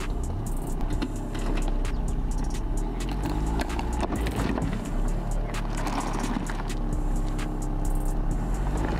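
A Land Rover Defender crawls over an off-road obstacle. Its engine drones steadily at close range, with irregular knocks and scrapes as the vehicle works its way across. No one speaks.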